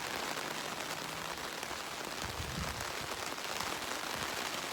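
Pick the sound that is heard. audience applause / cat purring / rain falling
rain falling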